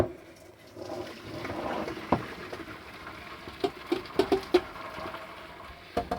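Boiled rice and its hot cooking water are poured from a pan into a colander. A soft, quiet rush of draining water is broken by a few light clatters and taps near the end.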